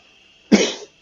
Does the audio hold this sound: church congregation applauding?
no